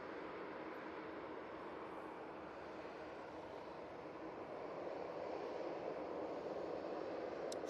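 Qatar Airways Boeing 787-9 Dreamliner arriving from Doha to land at Manchester Airport, a steady broad jet roar held at even loudness throughout, heard from a distance with no talking.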